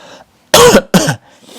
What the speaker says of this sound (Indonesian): Batuk-batuk masih, ya.